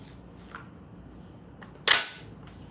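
A single crisp dry-fire trigger click from an AR-15 rifle, sharp and close, with a faint fainter click just before it in an otherwise quiet space.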